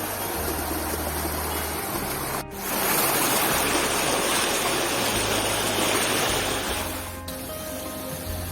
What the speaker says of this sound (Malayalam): നമ്മള് കുഞ്ഞു വെള്ളച്ചാട്ടത്തിലെത്തി